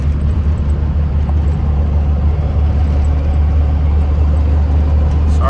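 Compound-turbo 12v Cummins in a short daily-driver truck with S480 and HE351 twin turbos, cruising on light throttle: a loud, steady low diesel drone with road noise, no talking.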